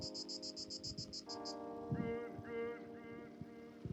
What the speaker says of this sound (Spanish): La cigarra, escuchó a la Furguis y ya dijo, "Shh, que no me vean".